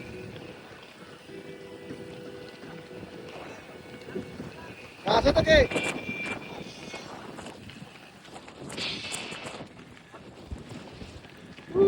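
Strong wind gusts across a gravel road at the Tolo' wind farm in Jeneponto, Sulawesi, rumbling steadily into the microphone with a few louder blasts, while people talk over it.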